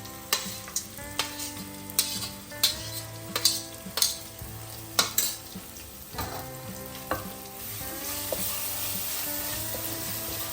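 Green chili, ginger and garlic sizzle steadily in a pan for a spicy tomato fish curry, with repeated clinks and scrapes of stirring close by and a brief rising hiss near the end.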